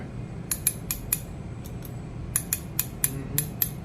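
A fishing reel's clicker ticks in short bursts, sharp dry clicks coming in quick groups of two or three against a low background rumble, fairly close and with no voice.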